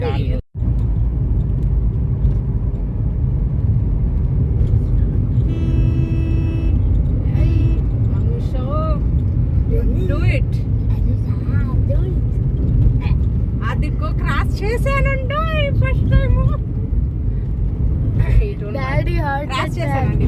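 A car drives along a road and overtakes a lorry, its steady engine and road rumble loud and continuous throughout while voices talk inside the car.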